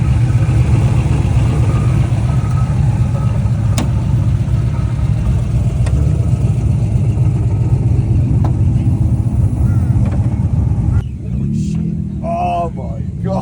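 Aluminum 5.3 re-sleeved engine running steadily at a low, rumbling idle with a few sharp clicks, loud and close, before a voice briefly speaks over it near the end.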